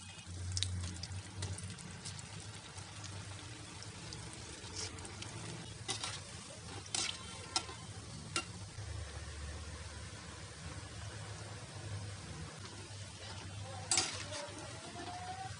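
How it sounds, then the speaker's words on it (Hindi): Potato chilli garlic nuggets deep fry in oil with a soft, continuous bubbling sizzle, broken by a few sharp clicks and a brief clatter near the end. "हमें ऐसे ही सारे नगेट्स को तल लेना है"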